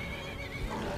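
Horse neighing in the video game Skyrim, a single brief whinny with a wavering pitched tone over low rumbling game ambience.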